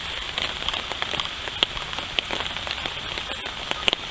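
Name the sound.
rain falling on tarp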